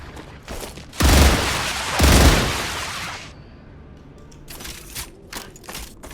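Mechanical clacks and a ratcheting magazine change in a first-person shooter, two loud bursts of gunfire-like noise early, then quieter clicks and rattles alone.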